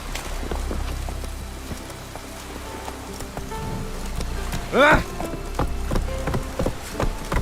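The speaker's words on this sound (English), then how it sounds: "It's raining." Rain falling in the Witcher 3 video game, a steady patter over the ground, with clopping hoof-like steps and a brief whooshing sweep midway.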